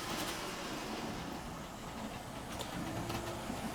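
A small model railway shuttle train runs along the track with a steady rumbling, faint rail clatter and a low continuous hum, heard alone at moderate loudness.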